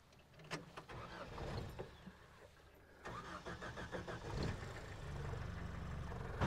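An abandoned manual Toyota Hilux pickup engine turns over and catches after a short crank, then settles into a steady, close idle.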